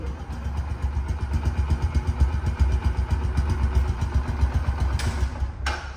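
A second-hand Bajaj Platina 110 motorcycle idles up close, its single-cylinder engine thumping in an even, rapid pulse that holds steady and loud throughout, with no talking.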